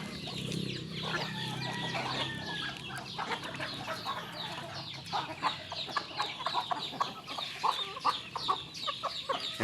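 Backyard chickens, including native and Texas breeds kept alongside ducks, cluck busily at morning feeding time, with a rapid overlapping chorus of close, moderately loud clucks and squawks that grows denser toward the end.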